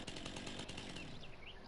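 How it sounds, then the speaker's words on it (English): A chainsaw in the video game Farming Simulator 2019 runs with a steady, loud buzzing drone throughout, no speech over it. "chainsaw"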